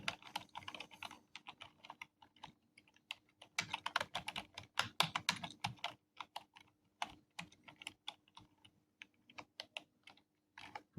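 Computer keyboard typing a search in a browser's search bar: quiet, close keystrokes in quick irregular bursts with short pauses between words.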